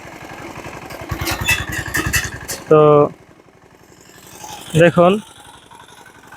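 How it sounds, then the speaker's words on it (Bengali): A mini power tiller engine churns as it ploughs a field, a steady throbbing chug that runs beneath someone speaking close by. "দেখুন কিভাবে মিনি পাওয়ার টিলার দিয়ে সুন্দরভাবে চাষ হচ্ছে"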